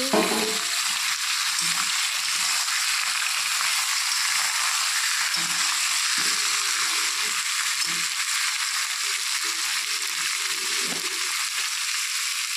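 Chicken pieces fry in a pan with fried onions, with a constant, loud sizzle and a few soft stirring and rattling sounds underneath.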